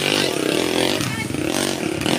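An XRM motorcycle engine at an outdoor motocross freestyle event, revving loud and close with a raspy, buzzing two-wheeler whine that rises and dips, with crowd noise and voices mixed in.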